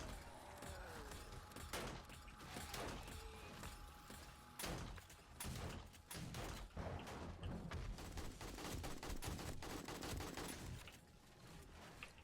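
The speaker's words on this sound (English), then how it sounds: "We got our turrets lined up. They're doing their job." Automated turrets in 7 Days to Die fire steadily at zombies, a dense run of rapid gunshots and bursts lasting throughout, loud and close with no pauses.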